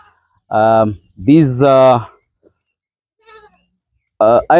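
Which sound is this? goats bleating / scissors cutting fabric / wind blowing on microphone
goats bleating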